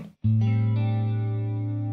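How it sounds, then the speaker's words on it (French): A sustained electric guitar chord swells in and rings out with a lush, washy reverb tail, loud and alone. "Je te propose de commencer par la reverb."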